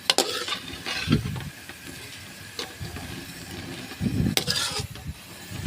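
Raw mango pickle frying in oil, with a close, steady sizzle and repeated stirring scrapes of a spoon through the pan, loud bursts recurring every few seconds.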